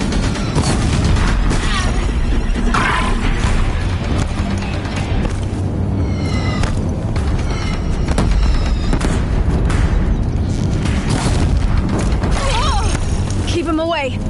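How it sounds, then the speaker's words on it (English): Deathbringer war machines firing and explosions on a bridge in Horizon Zero Dawn, a loud sustained rumble of blasts and mechanical crashes beneath near-constant talking, with scattered sharp metallic whines. "If the Deathbringers keep firing, this bridge will go."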